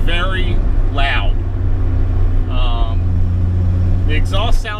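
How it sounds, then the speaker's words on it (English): Loud car exhaust droning steadily from inside the car while driving, a constant low rumble with someone talking over it at intervals. "The exhaust sounded good when I first started it up, but now it's obnoxiously loud."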